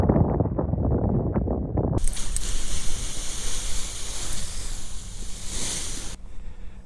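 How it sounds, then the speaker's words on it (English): Strong wind roaring across an exposed mountain top, loud continuous rushing and buffeting against the microphone, preceded by a couple of seconds of rumbling gusts. "The wind is incredibly strong."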